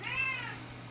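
A pet cat gives one clear, drawn-out meow close by, rising and then fading, over a steady low electrical hum from a water-cooled computer build.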